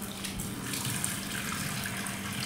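Tap water runs steadily while cleaned pedve fish are rinsed by hand in a Malvani kitchen, a close, even wash of splashing water with no talk.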